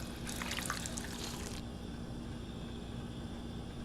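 Water trickling and splashing from a fountain in the Fallout video game, a bright, busy patter for about a second and a half that then cuts off, leaving steady low ambient hum.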